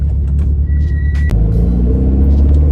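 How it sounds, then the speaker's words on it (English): Road traffic rumbles steadily around a car stuck in late-afternoon congestion, a loud low engine drone with a brief sharp click partway through and a faint high whine before it, no voices. "and now I'm stuck in traffic."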